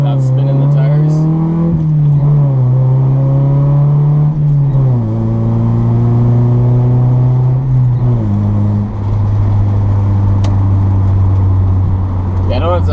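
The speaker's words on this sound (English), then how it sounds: "Notice how I can do that without spinning the tires?" A car engine revs up several times in a row as the car accelerates without spinning its tires. The loud, close engine note climbs in pitch on each pull and shifts between gears, with no tire squeal.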